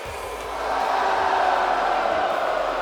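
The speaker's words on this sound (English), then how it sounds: "There are boos ringing around in the stadium" Stadium crowd booing in the wrestling video game WWE 2K24: a broad, sustained roar of many voices that swells after a quieter start and holds steady at a distance.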